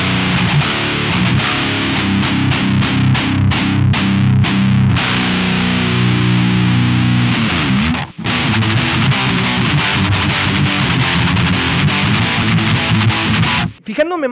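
Electric guitar played through a Modern Drive 666 amp simulator plugin preset on a PC, a dense, heavily distorted high-gain tone with fast chugging riffs and sustained chords, loud and continuous with two brief gaps.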